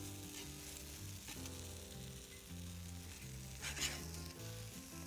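Cheese caramelizing in a frying pan for a brie grilled cheese, a faint, steady sizzle under soft background music, with one brief scrape of a utensil near the end.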